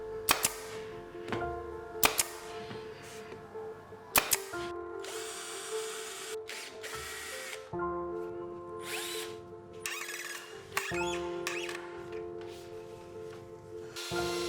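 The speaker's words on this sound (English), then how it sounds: "Secure and lock it using glue, nail, and screw." Nails and screws go into an HMR board tabletop for a portable table saw station, with sharp nail-gun bangs and whirring power-driver bursts, close and loud, repeated several times.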